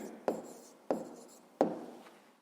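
A pen writes digits on paper while a math answer is noted down: three quick, close, distinct scratchy strokes spaced evenly apart, each fading out, quiet and alone.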